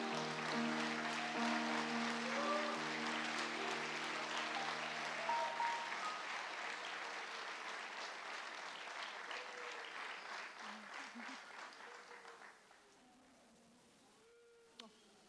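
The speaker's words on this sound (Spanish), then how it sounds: "Y yo quiero que todos ustedes le den una bienvenida con un caloroso aplauso en este momento." A congregation at a Spanish-language church service applauds to welcome a speaker: long, sustained, dense clapping that stays steady, then thins gradually and fades out, leaving a quiet room.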